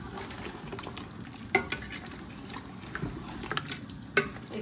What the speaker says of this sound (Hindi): इसको इस स्टेज पे शामिल करेंगे, अच्छे से मिक्स करते हैं।